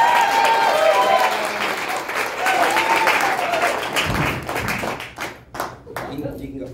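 A comedy show audience claps and cheers loudly and continuously for a few seconds, then the applause thins into scattered claps and fades out.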